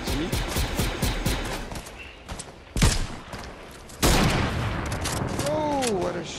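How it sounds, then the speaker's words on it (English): Rapid bursts of gunfire from the Fortnite video game crack out in dense clusters, with a couple of louder, sharper shots standing out, under excited talk from a player. "What a shot, a bloody shot."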